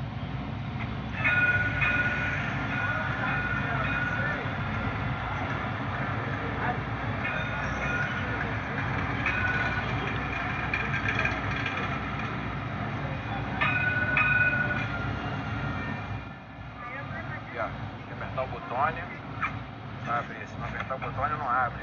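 A VLT light rail tram running through Rio de Janeiro, with a steady low rumble and rolling noise from the car. The rumble continues throughout, and a few brief squeals sound midway.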